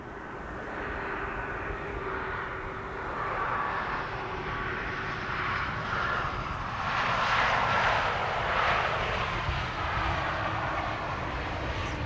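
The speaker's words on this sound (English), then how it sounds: "this is Austrian, Air Baltic flying on behalf of Austrian, arriving from Vienna." An Air Baltic airliner flying for Austrian, arriving from Vienna at Amsterdam Schiphol Airport, gives a steady broad engine roar at moderate distance, swelling slightly as it passes and holding throughout with no talk.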